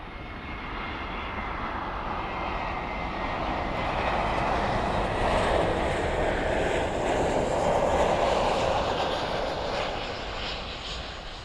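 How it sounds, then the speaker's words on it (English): A Volaris airliner arriving at Miami Airport from Mexico City makes a steady, broadband jet roar that swells gently toward the middle and holds loud and continuous to the end, with no voices. "This is Volaris, flight 790 from Mexico City."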